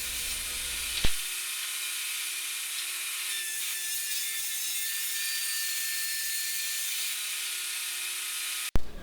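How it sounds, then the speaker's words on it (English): A table saw rips along the freshly jointed edge of a wood board held against the fence, a steady high whine and rasp of the cut running continuously between a sharp start and finish. "You take that freshly jointed edge and pin it against the fence, and that way you can make sure the opposite edge is parallel."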